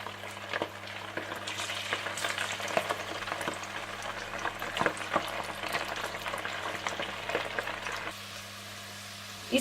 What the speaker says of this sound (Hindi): 5 से 10 मिनट चिकन को मैरिनेट करने के बाद आप इसे डीप फ्राई कर लें।